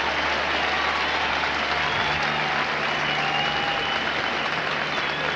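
Capacity crowd of about 59,000 at a Green Bay Bears–Packers football game applauding and cheering in a loud, continuous ovation as a player leaves the field.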